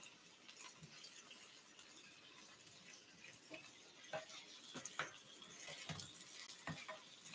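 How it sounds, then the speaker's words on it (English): Turkey sizzles in a skillet on the stove, a soft steady fry broken by scattered clinks and scrapes of utensils against the pan, quiet and close with no voices. "Slinging turkey at my skillet."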